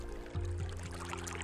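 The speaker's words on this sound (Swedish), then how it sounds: "Vattnet som sipprar ut genom porerna i tuberna rinner sedan ner i ett dike" Water seeps and trickles steadily out of porous geotubes filled with mine sludge, draining into a ditch at a Swedish mine remediation site; a continuous low pouring wash, fairly faint, with no voices.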